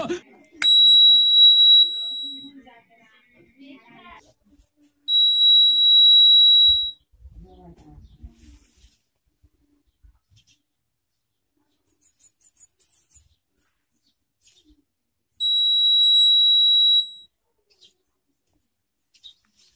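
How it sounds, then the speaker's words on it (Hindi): A home security alarm beeps in three loud, steady high-pitched bursts of about two seconds each, separated by quieter pauses with faint handling noise. "स्विच ऑन करने के बाद यहाँ पर एक बार अलार्म बजेगा"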